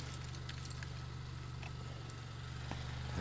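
A 2015 Honda CR-V engine idles with a steady low hum, faint and constant, with small metallic clinks above it and no talk.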